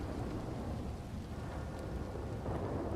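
Thunder rolling through a rainstorm in a video game, a dense, steady rumble under continuous rain that stays loud and even throughout, with no voices.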